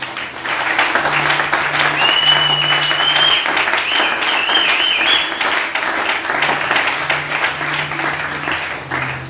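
Warm, sustained applause fills a church as the congregation acclaims during a service, dense clapping rising and holding, then easing slightly before swelling again, with a faint tonal hum running beneath.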